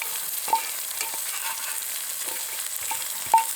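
Onions and garlic fry in a pan over an outdoor campfire, giving a steady soft sizzle with a few brief clicks and taps and no talking.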